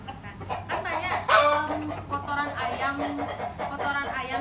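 Chickens around a house cluck and squawk in repeated bursts nearby, a rooster's crow rising in the middle, with a low steady hum underneath and someone talking at times.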